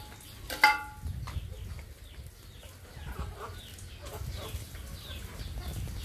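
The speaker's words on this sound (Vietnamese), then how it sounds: "Em gà tre này em ăn bưởi nhá mọi người nhá." A bantam chicken clucks while pecking at pomelo, with a louder burst of squawking near the start and then soft scattered clucks against a low rumbling outdoor background.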